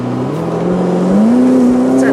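Ferrari F8 Tributo engine revving hard on kick-down, a loud rising drone that climbs in pitch as the car accelerates, heard from inside the cabin with someone talking over it.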